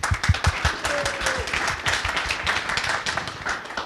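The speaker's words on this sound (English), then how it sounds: "thank you very much for the round of applause for our sponsors" A conference audience applauds the sponsors at a content creation panel with a dense round of hand clapping, louder and more distinct at the start and then settling into steady applause that fills the whole stretch.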